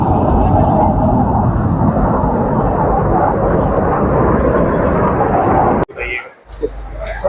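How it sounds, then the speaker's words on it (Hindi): Fixed-wing aircraft performing aerobatics at a defence exhibition air show in Saudi Arabia, a loud sustained engine roar that ends abruptly, with a brief muffled rumble after. "एयर शो का भी शानदार मुज़ाहरा किया गया, जिसमें मुख्तलिफ तैयारों ने फ़िज़ाई करतब दिखाए।"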